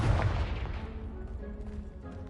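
A Confringo blast spell in Hogwarts Legacy goes off as a single loud, near explosion, then a long rumbling decay with scattered debris fading over two seconds.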